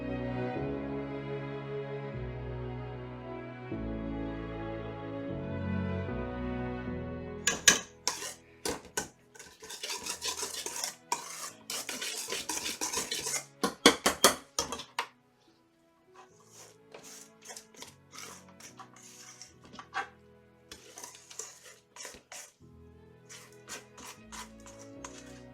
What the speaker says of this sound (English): Now I'm going to whisk it.